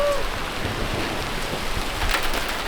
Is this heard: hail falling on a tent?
yes